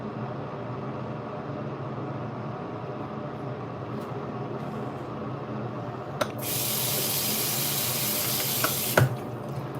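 A bathroom tap runs steadily to soak a hairbrush, a constant close hiss of flowing water that brightens and grows louder midway as the stream hits the bristles, with a few small clicks.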